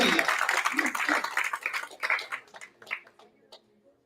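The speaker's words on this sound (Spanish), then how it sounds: "Den un aplauso al Señor." Church congregation applauding during a Spanish-language service, a burst of many hands clapping that starts dense and loud, then thins into scattered claps and fades out over several seconds.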